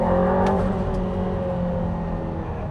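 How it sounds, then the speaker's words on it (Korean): An Aston Martin Valhalla supercar engine hums at a steady, sustained pitch with a faint whine, heard from inside the car and loud throughout, with no speech. "그리고 이 엔진 소리를 왜 안 들어?"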